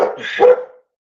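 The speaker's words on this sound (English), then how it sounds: "She's barking." A female dog lets out a short, close bark, a single vocal burst that rises to a peak and then stops sharply, leaving silence.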